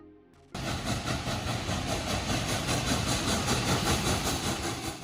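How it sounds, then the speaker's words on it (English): Union Pacific Big Boy 4014 steam locomotive, built in 1941, gives a loud, dense rumbling roar that starts abruptly after half a second and holds steady and close. No voices. "This famous steam locomotive was constructed in 1941 by the Union Pacific Railroad"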